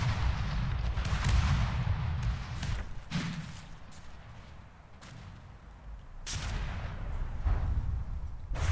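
Ship turret guns firing in From the Depths, a steady barrage of heavy cannon blasts with sharp cracks over a deep continuous rumble, loud and close, with no talk.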